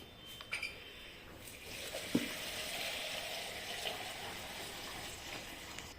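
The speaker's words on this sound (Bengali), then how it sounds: "এবার আমি কড়াতে দেব তেল।" Oil goes into a kadai (wok) while meat is being prepared, a hissing, crackling sizzle with a soft pouring splash that holds steady and moderately loud, with a few sharper pops.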